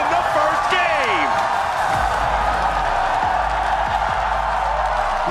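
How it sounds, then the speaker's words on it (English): A large arena crowd roars and cheers at an MSI 2025 League of Legends esports match in Vancouver, a dense sustained wall of sound with whoops rising above it. "Listen to that crowd."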